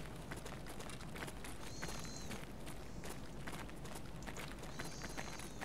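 Running footsteps in the video game Escape from Tarkov, a quick steady patter of steps over constant noisy game ambience, with no talking.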